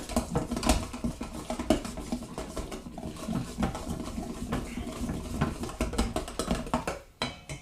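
Ingredients for teriyaki chicken are mixed by hand with a whisk in a bowl, giving a steady stream of close, soft tapping and scraping patter for several seconds.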